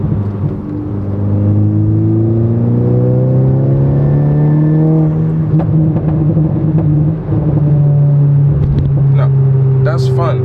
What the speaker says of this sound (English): The crackles and pops is fun, but it wastes so much gas.